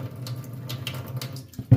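Tap water runs steadily into a kitchen sink as chicken back and neck pieces are rinsed and drained for curry, a close, continuous wash ending in a sharper splash.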